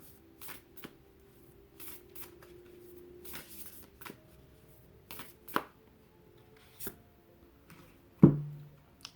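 Cards from a Moonology oracle deck being handled and shuffled, soft papery riffles and taps with a few sharper clicks, close and fairly quiet, no talking.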